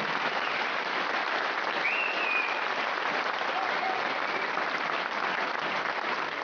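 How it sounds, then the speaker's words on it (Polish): Applause for female fighters after a bout in Szczecin sounds as a steady, dense wash of crowd clapping that fills the whole stretch, carrying some distant crowd noise. "Raz jeszcze wielkie brawa dla pań."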